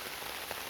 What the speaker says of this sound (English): See the rain hitting the water?